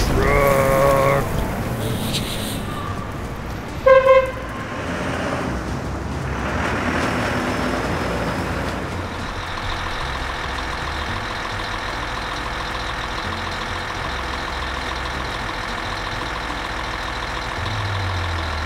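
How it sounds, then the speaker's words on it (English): A snowplow truck honks twice in short loud blasts early on, then its engine runs on as a steady low rumble with a hissing wash over it. "The snowplow truck."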